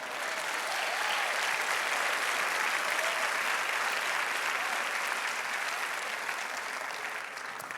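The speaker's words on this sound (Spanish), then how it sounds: "Dale un aplauso al Rey." A church congregation applauds during a Christmas sermon, a full, steady wash of clapping sustained throughout and tapering only slightly at the close.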